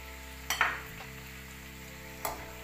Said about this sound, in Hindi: अब हम इसको हल्का सा हिलाएंगे